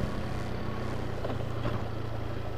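A motorcycle rides along rural village roads in Magelang regency during a long dry season, with a steady engine drone heavily blended with constant wind rush over the microphone.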